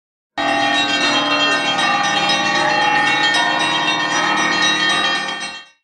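Church bells in Ryazan ring continuously and loudly as balloons are released, rich overlapping peals sustaining throughout before cutting off abruptly at the end.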